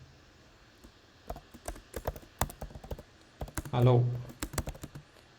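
Quick, uneven clatter of typing on a computer keyboard, close and fairly quiet, in bursts of keystrokes while someone writes code, with a short spoken word partway through.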